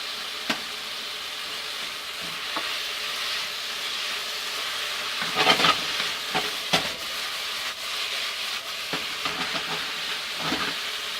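Green onion sizzles in a frying pan while being stirred, giving a steady, hissing fry with intermittent louder scraping and tapping of the utensil against the pan.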